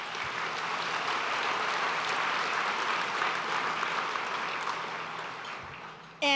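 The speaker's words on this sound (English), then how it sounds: "A round of applause for Lone Star College" An audience gives a round of applause for Lone Star College at a Houston community event, a steady dense wash of clapping that holds for about six seconds before fading slightly at the end.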